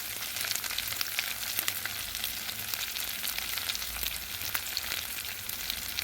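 Ginger garlic paste frying in a pan for a quinoa prawn biryani, a steady, even sizzle and crackle that stays constant throughout, close and fairly soft, with no talking.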